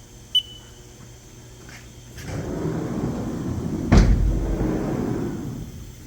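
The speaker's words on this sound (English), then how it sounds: "I'll go ahead and stop it and open the doors and move it around." Doors of a 2018 Haas VF-3SS CNC vertical mill being opened, a sliding rumble that starts softly and swells into a louder clunk and rattle at the end of travel, with a short beep near the start.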